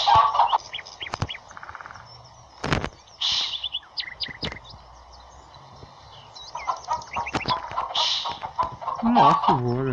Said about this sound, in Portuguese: Ó, o galo.